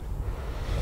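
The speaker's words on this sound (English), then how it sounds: "Really windy now" Steady low rumble of wind buffeting the microphone, a constant broadband roar with no other distinct sounds.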